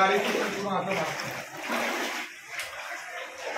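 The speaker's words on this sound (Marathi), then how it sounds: "पाणी कमी झालं आहे त्यामुळे माझे हे मुलं पाणी काढत आहे" Floodwater is bailed out of a house in Mumbai after heavy rain, with steady splashing and pouring of water close by and a voice talking over it.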